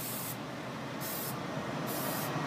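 Acrylic clear coat sealant sprays in a steady, loud close hiss onto a painted blown egg held on a wire, continuous throughout with slight pulsing.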